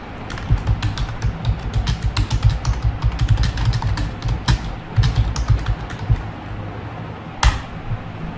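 Numbers being typed on a computer keyboard in a touch-typing lesson. A steady, fast run of close key clicks and taps goes on for several seconds, with one sharper keystroke near the end.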